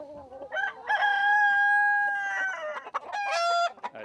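A bearded hen without ear lobes, from a blue-egg chicken breed, gives a loud, drawn-out crowing call with rising and falling harmonics, followed by a second, shorter call.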